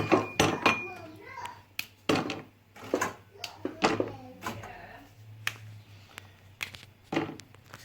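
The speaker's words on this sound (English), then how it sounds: "So now I'm going to break it up into a bowl." Biscuits snapped by hand and dropped into a bowl while making tiffin, giving a run of sharp, close cracks and light clinks against the dish in irregular bursts.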